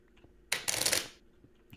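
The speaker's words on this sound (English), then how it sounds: "Don't you understand that I have to shuffle these cards?" A deck of playing cards riffled in one quick burst of dense, crisp flutter lasting about half a second, loud and close against a quiet room, with no talking.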